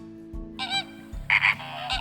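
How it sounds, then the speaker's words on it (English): A frog croaks in a short series of close, raspy pulses, three or four bursts over about two seconds, with no voice present. "Croak."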